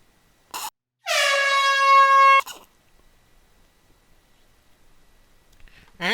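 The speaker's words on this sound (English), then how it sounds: "We might need an air horn there." A loud, sustained air horn blast with a bright, harmonic tone lasts just over a second, preceded by a brief click and followed by near silence.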